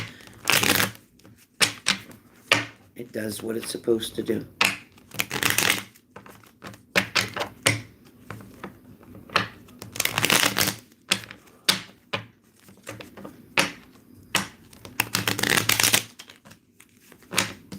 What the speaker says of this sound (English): then it means I'm not done shuffling